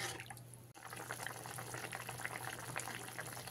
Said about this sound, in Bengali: ঝোলটা খুব সুন্দর ফুটে গেছে